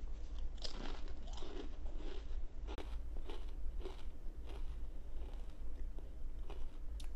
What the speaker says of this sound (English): I'm really sorry for weird crunching sounds